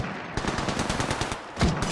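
Rapid automatic gunfire in the mobile battle-royale shooter Apex Legends Mobile, a dense run of close, loud shots firing steadily through the clip with a brief pause and a heavier burst near the end.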